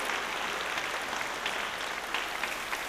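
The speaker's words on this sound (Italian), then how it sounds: "prendetevi prima l'applauso" A cabaret audience at a rock festival claps in a steady, dense wash of applause, continuous and fairly loud, with no voices standing out.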